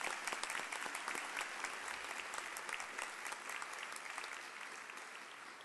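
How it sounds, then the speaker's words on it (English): Steady applause from an audience at a university honors convocation, dense and even clapping that holds at a constant level for several seconds before easing slightly, with no talking over it. "Please join me in a round of applause"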